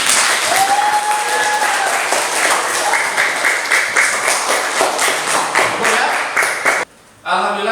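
Applause at the close of a classroom teaching session: dense, steady clapping from a group, loud and continuous for several seconds before stopping abruptly, with a short burst of sound after the pause.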